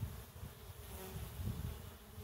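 Stingless bees buzzing around an outdoor feeder and hive box, a faint continuous hum of many insects flying close by, with no talking.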